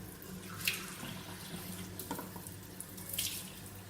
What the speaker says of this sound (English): I'm adding half a cup of water